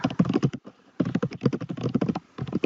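Rapid, steady typing on a computer keyboard, dense bursts of key taps with a brief pause partway through, close and fairly loud with no talking.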